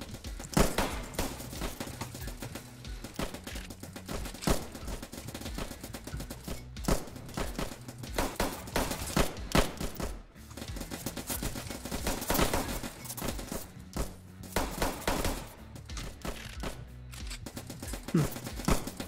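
Gunfire from a Roblox trench war game: dense, continuous volleys of overlapping rifle and machine-gun shots keep firing throughout without letting up.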